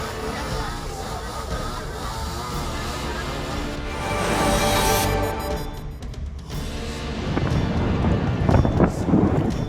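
Strong wind storm gusting through Merauke, Papua, a loud broadband roar that swells and buffets the microphone throughout, with heavier surges near the end.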